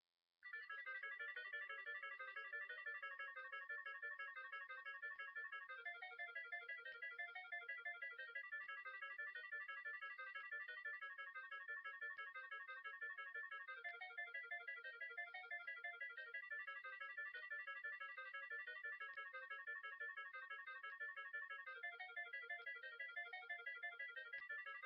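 A cell phone ringtone plays a theme from the video game as a loud, steady electronic melody that loops for about 25 seconds with no talking.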